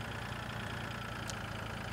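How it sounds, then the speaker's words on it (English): A small tractor engine in the video game Farming Simulator 2013 idles steadily, a constant low mechanical drone at moderate level with no talk. "Get our small epic tractor out of the way."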